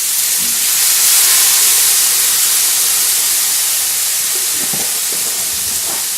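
Onions and garlic sizzle steadily in a pan for sausage orecchiette, a continuous close hiss with a few small pops near the end and no talking.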